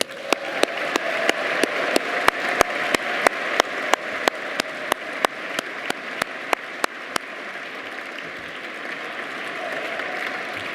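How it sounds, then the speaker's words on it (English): Applause from diners at a business council award dinner, a broad crowd wash punctuated by about two dozen loud, evenly spaced claps close to the mic that stop after seven seconds while the crowd keeps going. "Please join me in giving them another round of applause"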